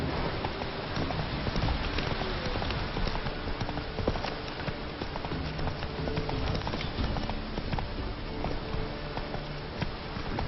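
Hooves of the horse Roach clip-clopping steadily in The Witcher 3 as rain pours down, a dense continuous patter under the quick rhythmic hoofbeats.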